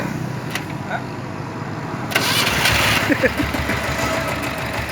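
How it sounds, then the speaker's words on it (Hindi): A homemade diesel motorbike engine starts with a sudden rise into a low, rough, knocking idle. Faint clicks come just before it, and the chugging idle carries on steadily up close. "देखिए इशारों से गाड़ी स्टार्ट हो रही है"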